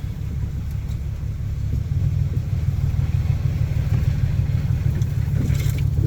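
A truck grinds through muddy holes on a rough track up a West Virginia holler, its engine a loud, steady low rumble that swells and thickens as it pushes harder into the mud.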